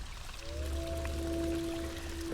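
Water pours in a steady stream with a thin sustained tone over a low rumble, lasting a couple of seconds, in the video game In Verbis Virtus.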